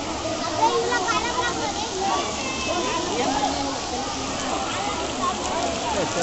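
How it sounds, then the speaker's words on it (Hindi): The Kakolat waterfall in Bihar roars as a continuous, loud, broadband rush of falling water with a dense splashing texture and no breaks. "ये पानी कितना ऊपर गिर रहा है भाई।"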